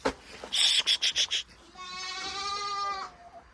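Goats in a goat shed bleating close by: a burst of short, quick wavering cries followed by one long, drawn-out tremulous bleat.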